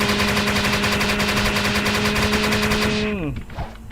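Rapid, continuous rattling bursts of a machine-gun punch attack in Roblox with a droning electronic tone underneath, ending in a falling pitch sweep.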